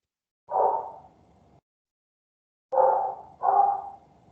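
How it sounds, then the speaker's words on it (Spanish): A dog barks three times somewhere nearby, one single bark and then a quick pair after a pause, each with a short trailing echo and no talking over it. "Se escucha perro por ahí."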